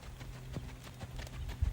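Hoofbeats of a Rocky Mountain horse in saddle gait climbing a hill, a quick uneven clip-clop that grows slightly trotty, close and moderately loud over outdoor background noise.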